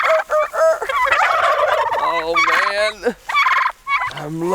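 Turkeys gobbling on a farmstead in rapid, bubbling bursts, several calls overlapping close by, with a brief human exclamation early on.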